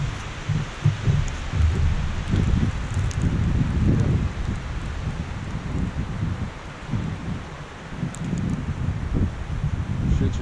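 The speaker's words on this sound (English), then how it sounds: "Looks like the wind's starting to pick up again" Wind gusting steadily outdoors at a winter bushcraft camp in the bush, a loud continuous roar with rustling that swells and eases throughout.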